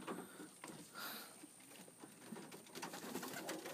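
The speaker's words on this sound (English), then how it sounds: "and here are the birds." Pigeons in a loft, faint soft cooing and light fluttering and shuffling of feet and wings, quiet and close, with no voices.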